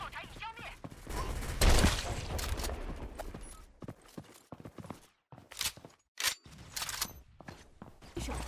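Gunfire from the mobile shooter game Ace Soldier comes in bursts of sharp, rapid shots mixed with mechanical clicks and game effects, with a pause between volleys and talk over parts of it.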